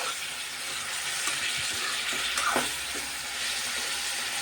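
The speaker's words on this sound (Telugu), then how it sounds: "ఇది ఇలా ఫ్రై అవుతూ ఉండగానే మనం వంకాయ ముక్కలు కూడా వేసేసుకున్నాం" Flat beans and brinjal pieces frying in a pan, a steady close sizzle with a few soft stirring clatters and scrapes partway through, no voices.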